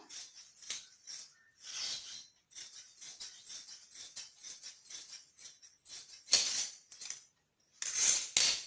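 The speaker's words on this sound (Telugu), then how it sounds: "ఇప్పుడు ఈ ఘేర్ని కట్ చేసేసుకుందాం" Scissors cut through the flared skirt fabric of a little girl's frock in quick, crisp snips. The close clips come in short bursts separated by brief pauses, with several louder cuts near the end and no voice.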